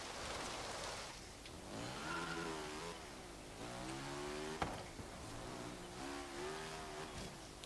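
A 1957 BMW Isetta 300 Export in Forza Horizon drives hard, its small engine revving up and down in repeated rising pitch sweeps, with a sharp knock midway and road noise beneath.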